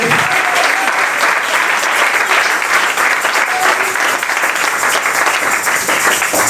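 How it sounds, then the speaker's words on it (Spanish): Congregation clapping hands during a church service, a loud, dense, sustained roar of many hands close by, with faint voices mixed underneath. "Habrá alguien que pueda darle palmas al Rey en esta noche."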